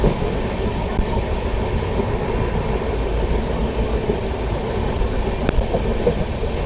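A passenger train pulls out of Asthal Bohar station, its steady broadband rumble and wheel noise filling the clip continuously at moderate loudness, with no voices.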